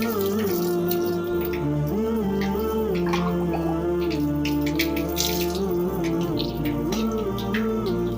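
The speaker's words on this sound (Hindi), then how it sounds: "फिर 3 मरतबा कुल्ली करें, जिस तरीके से हम कुल्ली कर रहे हैं।" Mouth rinsing with water during wudu ablution, a wet gargling and sloshing sound with running tap water steady in the background, close and continuous throughout.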